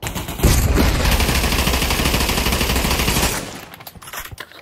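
Sustained automatic gunfire in the VR shooter Pavlov, a loud close continuous rattle lasting about three seconds before cutting off, followed by quieter residual noise.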